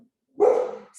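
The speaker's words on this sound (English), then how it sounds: "I wish there was a way to like stop dogs from barking." A single dog barks close by after a moment of quiet: one loud, harsh woof that trails off, followed by a faint higher sound at the end.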